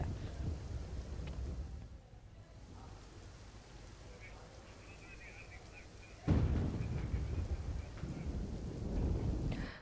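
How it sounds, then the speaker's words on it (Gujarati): Heavy monsoon rain pours steadily in Vadodara, India, while thunder rumbles low, with a louder surge of downpour partway through. "વડોદરામાં સતત વરસાદ વરસી રહ્યો છે"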